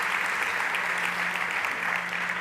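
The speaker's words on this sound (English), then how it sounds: "Big applause." A startup pitch stage audience at a summit event breaks into steady, dense applause, a continuous wash of many hands clapping at even volume with no talk over it.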